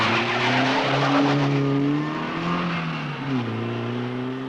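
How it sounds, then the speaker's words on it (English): A car tears away with loud, continuous tire squeal and skidding, the engine revving hard as it speeds off, sustained and close for the whole stretch. "The Frenchman's making off with our car."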